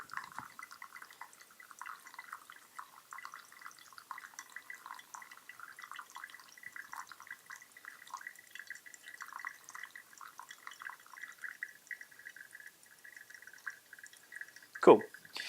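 Coffee drips through a Hario V60 pour-over, a soft steady trickle of small drips that continues throughout, with faint louder splashes near the end.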